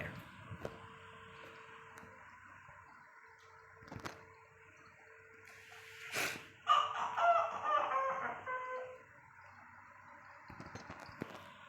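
In the Daddy World video game, a chicken clucks and a rooster crows in a loud burst midway. Quiet ambience and a few knocks fill the rest, and no one speaks.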